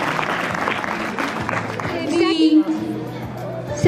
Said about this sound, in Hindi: मैं अनुरोध करूंगा इनाम जो है लेके जाए और जोरदार तालियां हो इन बच्चों के लिए